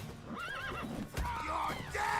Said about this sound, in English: The goddamn horse just ran over the man.